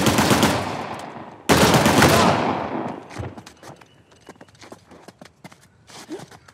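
Heavy gunfire in the video game Uncharted: The Lost Legacy: a loud sustained burst of rapid shots, a brief break, then another dense volley that fades into scattered, fainter pops and clatter.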